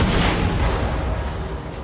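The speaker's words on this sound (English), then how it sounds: "it also gave us a bunch of grenades, so I may as well use them" A grenade blast in the shooter game Wolfenstein II: The New Colossus, a dense, rumbling burst that stays loud across the short clip before easing off.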